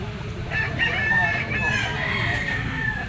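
A gamefowl bull stag crows loudly and close in a long drawn-out call, with other fowl sounds and background noise throughout.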